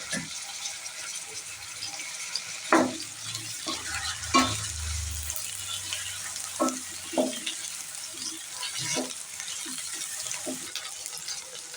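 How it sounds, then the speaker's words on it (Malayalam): Large pieces of brinjal, soaked in water beforehand, fry in oil in a pan for a Tamil Nadu-style kara kuzhambu, giving a steady sizzle broken by several sharp scraping stirs and clinks. "ഇതുപോലെ ഫ്രൈ ആയി വരുമ്പോൾ പ്ലേറ്റിലേക്ക് മാറ്റാം."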